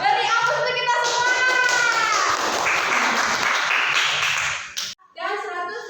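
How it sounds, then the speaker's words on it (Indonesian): A classroom of children claps together in loud, continuous applause for several seconds, with kids' voices mixed in, before it stops abruptly and a voice begins speaking. "Beri aplaus untuk kita semua"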